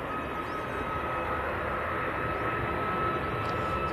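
An airliner departing Manchester Airport for Dubrovnik, operated by Smart Links Malta, produces a steady, broad jet roar that holds constant at moderate distance, with no talk.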